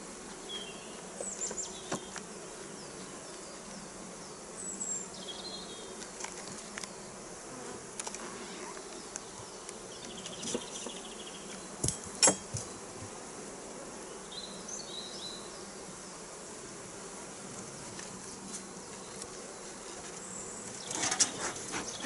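Honeybees buzzing steadily around an open spring hive while frames of brood are rearranged to make an artificial swarm, a dense continuous drone with occasional closer passes and light clicks of handling.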